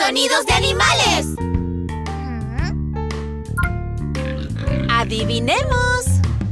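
A farm pig in a children's song, sung as a voice imitating repeated oinks over a bouncy, bright accompaniment, with cheerful singing voices throughout.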